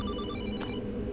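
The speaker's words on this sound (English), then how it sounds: "Phone." A telephone rings in the survival horror game Hollowbody, a steady electronic ringing tone, clear and close against a low droning game ambience.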